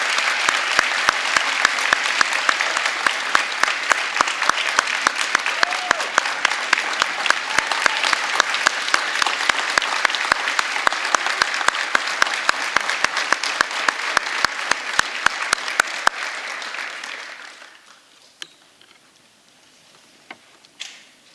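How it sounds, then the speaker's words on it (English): An audience at a high school awards night applauds steadily for honored educators, with dense, even clapping that fades out near the end into a quiet room with a few scattered sounds. "I ask for another round of applause for these outstanding educators."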